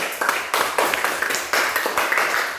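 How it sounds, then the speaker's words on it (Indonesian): A classroom group claps after a correct answer in an animal quiz, with scattered, uneven hand claps of moderate loudness, close by, with no voices. "Oke, tepuk tangan."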